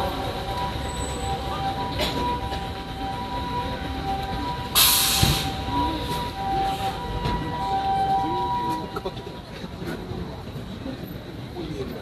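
An ambulance siren passes during an outdoor Japanese political speech, a faint wailing tone under continuous amplified talk and street noise, with a brief louder burst midway.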